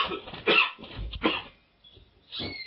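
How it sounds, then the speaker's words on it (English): A podcast host with a cold coughs in a few harsh bursts close to the microphone, with short pauses between them. "This cough is really irritating me."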